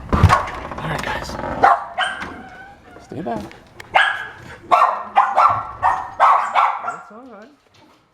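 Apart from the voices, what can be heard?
dogs barking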